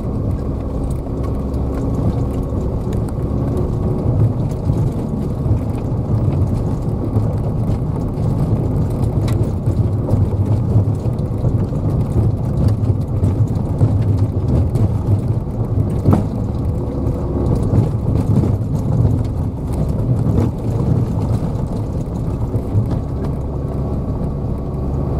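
Car climbing a steep, rough grassy slope near Les Orres, engine labouring steadily and close for the whole stretch, with wind buffeting the microphone and occasional bumps.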